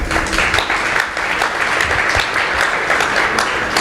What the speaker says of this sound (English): please give yourselves some encouragement and applause